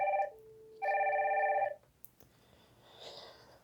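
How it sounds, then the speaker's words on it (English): A Wildix WP410 desk phone ringtone sounds in two bright electronic tonal bursts, followed by a click and faint low hum. "it can now turn up the volume of the ringtone."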